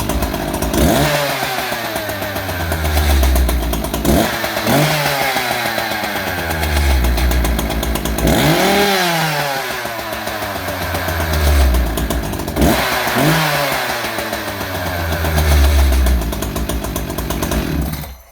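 An Echo CS590 chainsaw fitted with an upgraded air filter revs hard several times in a steady cycle, dropping back toward idle between each loud burst.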